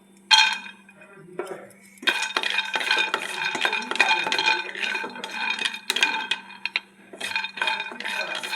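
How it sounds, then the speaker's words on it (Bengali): Peanuts are stirred dry in a hot pan, giving a steady run of scraping, rattling strokes and clinks, close and fairly quiet with brief pauses between bursts. "পুর বানানোর জন্য কিছুটা বাদাম কাঠখোলায় নেড়ে নেব।"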